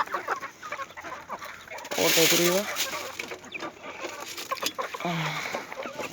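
Brahma rooster clucking in a backyard coop among other chickens, short bursts of clucks that stand out near the middle and end, with someone talking nearby.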